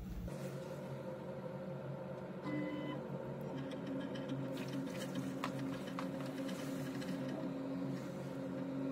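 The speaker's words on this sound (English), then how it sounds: "So now I'm going to resume the print just by pressing the control button, going down to resume print, and now it'll heat the nozzle back up to temperature" A 3D printer resuming its print with the nozzle laying down a layer, a steady faint mechanical hum with stepper-motor whine and small tonal shifts as the head moves, with no speech.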